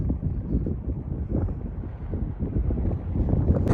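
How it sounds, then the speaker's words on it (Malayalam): Strong wind blows through a canyon in Colorado or Utah, a loud, low, gusting rumble buffeting the microphone without a break. "ഭയങ്കര കാറ്റടിക്കുന്നുണ്ട് ഇവിടെ"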